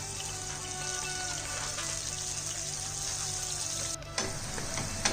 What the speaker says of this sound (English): Now saute this little bit on low medium flame